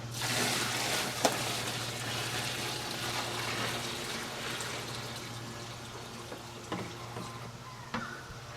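Rainwater pours into a 1950s Maytag washing machine, a soft running splash and trickle over a steady low hum, with a few faint knocks along the way and no one speaking.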